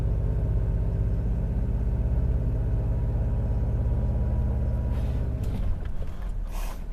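A motorcycle engine with a brake line lock system runs steadily as it drives up, a continuous mid-low rumble close by that drops away near the end, with no talk.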